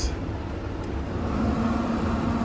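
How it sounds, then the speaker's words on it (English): The motor of a Pit Boss pellet grill under repair runs on its own with a steady, even hum and a faint whine, with no talking over it. "Motor works. You can see the shaft spinning."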